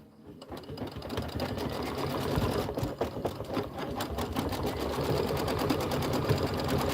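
An embroidery sewing machine stitches out a bunny boot design, its fast steady needle chatter running continuously and close throughout, with a faint voice briefly underneath.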